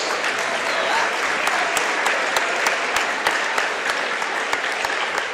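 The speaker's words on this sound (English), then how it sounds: "Please join me in a round of applause for our game officials" An indoor crowd at a high school boys varsity basketball game applauds steadily for the game officials, a dense wash of clapping with a few sharper individual claps standing out, sustained throughout.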